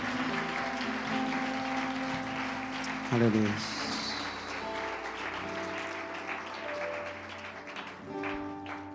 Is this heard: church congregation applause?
yes